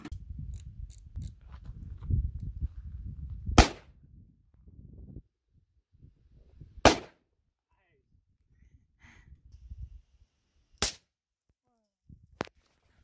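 Gunfire at a southern Utah shooting range: four sharp, loud shots spaced a few seconds apart between stretches of quiet, with people talking and low handling noise in between.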